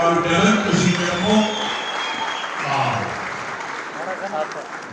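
Audience applause at a film premiere ceremony fills the room as a steady, fairly loud wash of clapping, with a presenter's voice speaking over it throughout.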